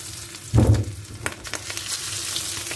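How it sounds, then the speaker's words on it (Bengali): Fish pieces lowered one by one into hot oil for a fish fry, setting off a loud burst of close sizzling that settles into a steady crackling fry. "তেল গরম হয়ে গেছে, এখন আমরা মাছগুলো আস্তে আস্তে ছেড়ে দিচ্ছি।"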